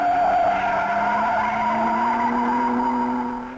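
An Alfa Romeo race car in the Mille Miglia road race screams past, its loud engine and squealing tires holding a strained, steady pitch before fading slightly at the end.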